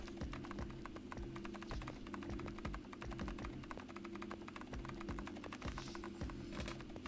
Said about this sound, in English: I think I can just hear typing noises.